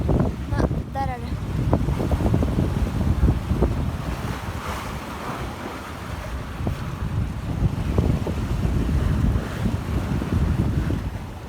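Strong wind buffets the microphone aboard a sailing boat crossing the stormy Bay of Biscay, with choppy waves slapping and rushing against the hull in a constant loud roar; a voice briefly speaks near the start.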